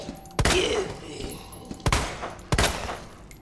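Gunshots ring out in Resident Evil 2, three sharp, loud blasts spaced about a second apart, each trailing off into a short echoing decay.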